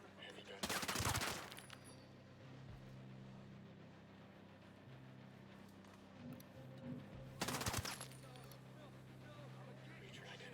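Heavy machine gun fire in Ghost Recon: Breakpoint, two loud sustained bursts about seven seconds apart over a low rumbling background, with quieter ambient noise between them.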